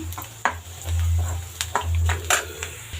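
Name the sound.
stirring spiced egg puff stuffing in a pan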